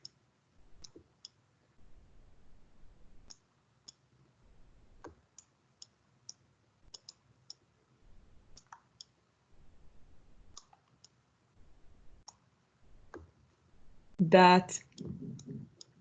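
A computer mouse clicks in sparse, quiet single and double taps while it is used to write, with a speaking voice and a brief louder burst near the end.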